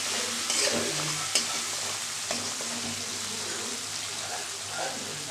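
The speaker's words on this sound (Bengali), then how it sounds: "মশলাটা আমি ভালো করে কষিয়ে তারপরে মাছটা দেবো।" Spice paste cooking down in hot oil in a pan for a pabda fish dish, sizzling steadily with scraping stirs throughout, close and fairly loud, with no talk.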